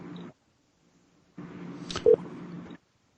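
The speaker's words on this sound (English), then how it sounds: "Let's see if Emma answers the phone" A telephone dials out to place a call, with short tonal beeps and a longer ringing or connecting tone that stop and start against a quiet line.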